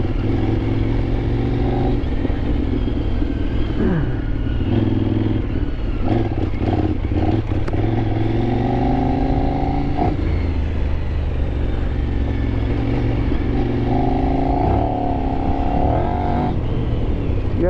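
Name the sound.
Kove 800x adventure motorcycle riding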